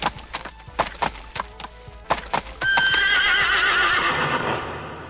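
Horse in the Final Fantasy VIII game lets out a loud, wavering neigh after a run of sharp clip-clopping hoofbeats, the whinny swelling and holding over the last couple of seconds.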